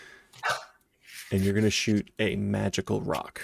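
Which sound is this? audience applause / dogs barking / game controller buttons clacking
dogs barking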